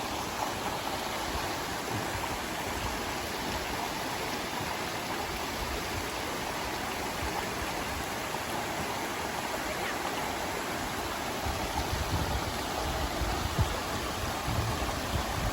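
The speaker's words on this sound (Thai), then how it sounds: "น้ำก็ค่อยๆไหลลงมานะครับ มันจะไหลสายมากนะครับ" Steady, rushing water pours continuously at close range, a dense even roar of a waterfall feeding a fast stream, with no voices.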